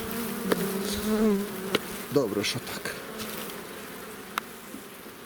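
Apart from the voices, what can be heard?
honey bees buzzing at hive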